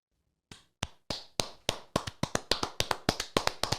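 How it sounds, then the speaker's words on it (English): A few people clap a congratulation in a small room, about fifteen sharp, close claps that start alone, then speed up into a loose, uneven patter with no voices. "Claps all around."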